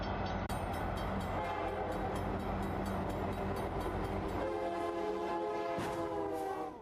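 A train rolls past a railroad crossing, loud and close, with a continuous low rumble of wagons under sustained horn blasts. A rhythmic ringing warning signal carries on throughout.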